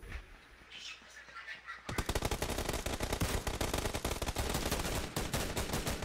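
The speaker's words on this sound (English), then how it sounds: "All I hear is the pitter patter of fucking M4s" Rapid automatic rifle fire from M4s in PUBG Team Deathmatch, a dense, loud stream of shots starting abruptly after a quieter opening and continuing without pause to the end, with a voice talking over it.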